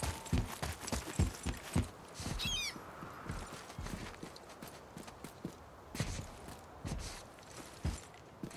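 Horse hooves clip-clop at a steady walking pace in the God of War video game, with a brief bird-like squawk early on and a background hum throughout.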